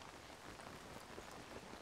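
Steady, faint rainfall in The Legend of Zelda: Tears of the Kingdom, a soft continuous hiss of drops with no other sounds.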